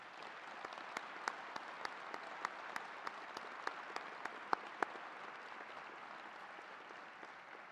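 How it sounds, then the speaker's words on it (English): Audience at a 2021 University of Dayton commencement ceremony applauds steadily, dense clapping of a large crowd with a few sharper nearby claps, holding fairly even before easing slightly toward the end. "Let's have a special round of applause for first generation graduates and the Flyer Promise Scholars."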